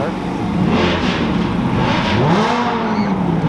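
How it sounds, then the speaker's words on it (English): A twin-turbo Audi R8 engine revs and roars past at close range, its pitch sweeping up and down over steady background noise and crowd chatter at a car rally launch party in Denver. "That's a twin turbo R8"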